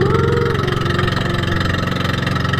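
A boat engine chugs steadily up close, a loud rhythmic throbbing drone that holds an even pace throughout, aboard a boat near Cadlao Island, El Nido.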